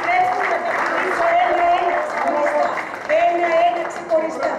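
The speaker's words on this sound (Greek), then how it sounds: "Παρακαλώ χειροκροτήστε την Ειρήνη μας" Audience applause for a Greek folk dance group at an award ceremony, steady clapping sustained throughout with voices and talk mixed in over it.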